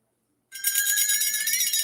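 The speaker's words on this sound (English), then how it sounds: "There's your crazy dinner bell" Dinner bell from a royalty-free sound library, rung rapidly and continuously with a bright metallic clang that starts abruptly after a brief silence and keeps jangling to the end, loud and alone.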